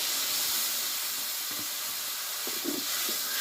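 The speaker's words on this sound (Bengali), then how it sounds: "আমি মশলাটা কষে নেবো" A ground paste of cashew, white mustard and poppy seed fries in a pan with a little water, giving a soft continuous hiss with a few faint stirring knocks near the end, close and steady.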